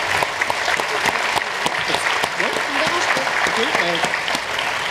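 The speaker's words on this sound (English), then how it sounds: "we can clap for that concept" A room of students at a school face-off event at Séminaire Sainte-Marie breaks into sustained applause, a dense, even patter of many hands, with voices and a few whoops faintly audible beneath the clapping.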